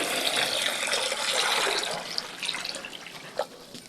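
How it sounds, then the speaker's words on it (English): Water pours into a polythene bag with a continuous close splashing gurgle that gradually thins out, ending with a few irregular trickles and drips. "So I put water like this."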